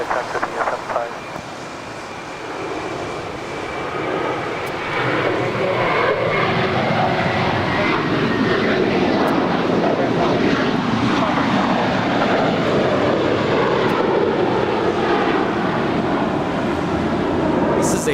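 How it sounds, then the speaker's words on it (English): An American Airlines Airbus A321, six years old, takes off for Orlando, its jet engines building into a loud, sustained roar that holds steady and fills the air after a brief quieter stretch at the start. "This is a 6-year-old Airbus A321 departing to Orlando"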